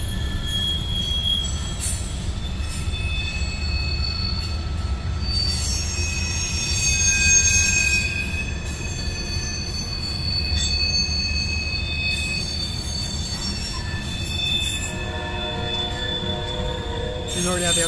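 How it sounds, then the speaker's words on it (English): Train wheels squeal loudly and continuously as railroad cars roll through a crossing, with shrill high-pitched screeching layered over a steady, heavy rumble for the whole stretch. "squealing wheels as usual"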